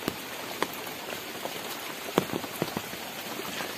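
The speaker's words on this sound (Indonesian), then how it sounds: "Bikin adem itu hujannya. Dari tadi hujan terus." Steady rain falls on a surface in the rural hamlet of Kampung Batu Saheng on an afternoon, a dense even hiss broken by scattered louder drips, with no talking.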